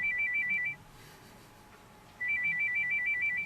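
A phone alert plays two bursts of quick rapid beeping chimes separated by a pause of over a second, faint and on its own.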